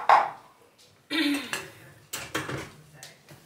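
Dishes and pans being washed: a few separate bursts of clattering metal and crockery up close, with short quiet gaps between them.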